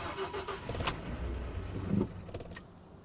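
A smashed Dodge Challenger with a Hemi V8 cranks and sputters without catching, short mechanical bursts and a whirring surge near the end, fairly quiet and close.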